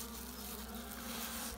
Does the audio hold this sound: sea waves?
no